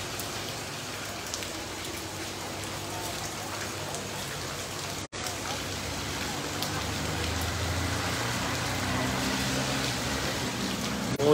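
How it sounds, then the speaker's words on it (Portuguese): Heavy rain pours down in a town centre in the interior of Ceará, Brazil, a constant dense hiss of rain on surfaces and running water, growing slightly louder toward the end. "Graças a Deus, muita chuva,"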